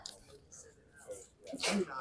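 A single sharp sneeze near the end, preceded by quiet murmuring voices and faint background noise at a college baseball preseason pitching warm-up.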